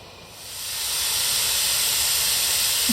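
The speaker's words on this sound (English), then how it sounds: "See the steam coming out." A loud, broad hiss of escaping steam swells up within the first second and then holds steady and close.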